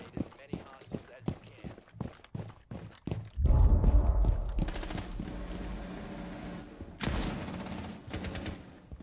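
AK rifle fire in Rainbow Six ranked play: a rapid string of sharp, loud shots in quick bursts, then a heavy boom with rumbling aftermath and more scattered shots later.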